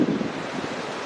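Wind blows steadily, a soft continuous rush with a brief gust at the start.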